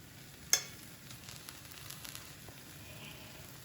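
An omelette fries in a pan with a faint, steady sizzle and crackle after a single sharp tap near the start.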